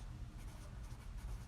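A pen or pencil drawing rule-of-thirds grid lines on a sheet of paper, with steady, soft scratching strokes close by and no talk.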